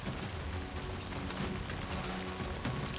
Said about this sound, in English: Oh, it's starting to rain. Oh, it's raining.